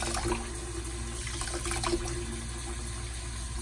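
Tap water runs steadily from a kitchen sink faucet, splashing over raw chicken being rinsed, with a continuous, fairly close wash of flowing water and no talk.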